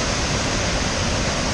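Water at the Devil's Kettle waterfall in Minnesota rushes down into a hole with a steady, loud, close roar that fills the whole stretch without a break.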